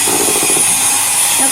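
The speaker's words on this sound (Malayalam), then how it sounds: "ഫസ്റ്റ് സ്പീഡിലിട്ട് നമ്മുടെ വിപ്പിംഗ് ക്രീം ഒന്ന് വിപ്പ് ചെയ്തെടുക്കണം." An electric mixer on its first speed whips cream with a steady, loud whirring hum. A voice talks briefly over the motor.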